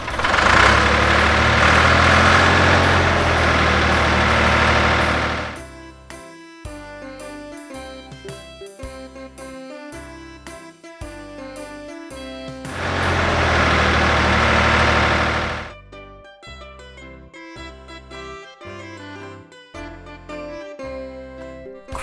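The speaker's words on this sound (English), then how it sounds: "Tractor with slurry tanker." A tractor hauling a slurry tanker idles in two loud, steady rumbling bursts, with music filling the gaps between them.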